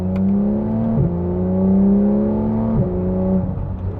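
Porsche GT3 engine revving with the rear exhaust flaps open, a loud, close, steady mechanical drone that dips in pitch twice before climbing again.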